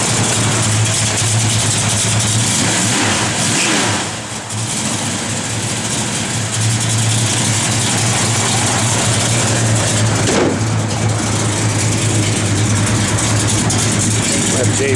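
A 1970 Dodge Charger R/T V8 idles with a steady, loud, deep rumble that runs unbroken, with someone talking over it at times.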